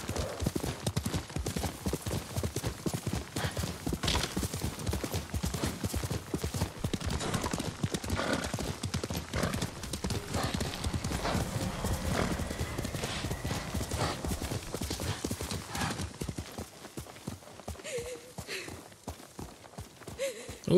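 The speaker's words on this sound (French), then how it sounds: "Tu es un bon cheval, Nobu." A horse gallops in the video game Ghost of Tsushima, with rapid, close hoofbeats pounding steadily before slowing and fading near the end, while a voice speaks French over them.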